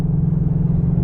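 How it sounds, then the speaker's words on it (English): Exhaust of a 2024 Ford Mustang GT on track setting, a steady, loud low rumble droning close by throughout without any talk. "But do you hear the exhaust now?"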